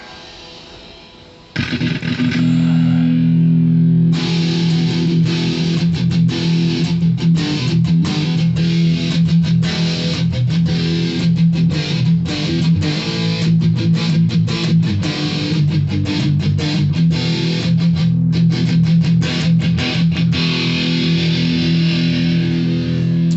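A distorted electric guitar on its bridge pickup, a Jackson Kelly or ESP LTD EX-50, plays loud, bright strummed chords and riffs with a biting, trebly edge, continuing steadily after a short quiet start.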